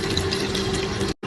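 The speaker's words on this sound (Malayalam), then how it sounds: "അതിനുശേഷം പാകത്തിന് വെള്ളം ഒഴിക്കുക." Water pours steadily into a pot for fish curry spiced with Kashmiri chili powder, turmeric and kudampuli, a close, continuous splashing stream that stops abruptly near the end.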